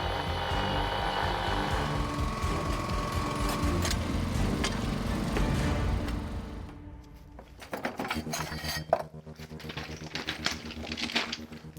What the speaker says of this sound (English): we used a weld shear that can create up to 20 tons of force to shear off the excess